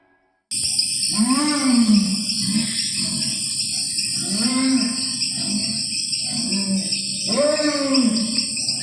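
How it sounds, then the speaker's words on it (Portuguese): An animal in dense forest gives repeated deep guttural growls, three or four drawn-out roaring calls in a slow rhythm over a steady high insect drone, loud and fairly close. "ele começa a ouvir um grunhido gutural de um animal na floresta fechada"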